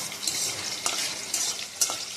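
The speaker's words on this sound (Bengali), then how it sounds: "কড়াই গরম হয়ে গেছে, দিয়ে দেবো তেল। আগে কটা লঙ্কা ভেজে নেবো" Dried red chillies frying in hot oil in a wok, a continuous close sizzle with a few sharp scraping stirs standing out above the hiss.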